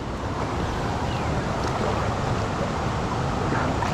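Water tumbles steadily over the spillway of Bayabas Dam in Bulacan, Philippines, a broad continuous rushing roar heard from nearby, mixed with wind buffeting the microphone.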